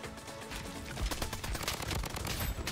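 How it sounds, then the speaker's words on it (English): Dense, rapid gunfire in the shooter video game Bloodstrike, with a gilded Ultra Vector weapon skin. Overlapping bursts and single shots crackle loudly and continuously with no pause. "Who's shooting me?"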